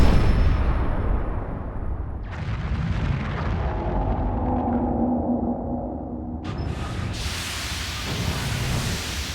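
Explosions in The Legend of Zelda: Breath of the Wild: two broad, rumbling blasts of noise, the first building steadily and the second erupting later, loud and roaring with no talk.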